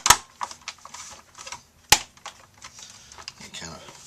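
Parts of a Toshiba Satellite laptop being pressed back together during reassembly give two sharp, loud snaps and a scatter of smaller clicks and taps, close up, with quiet talking between them.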